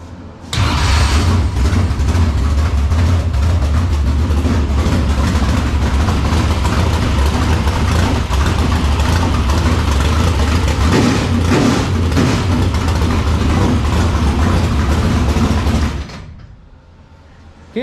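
Race car engine fitted with a Hammond flat top air cleaner cranks, catches and roars loudly, holding a heavy, steady idle for about fifteen seconds before cutting off.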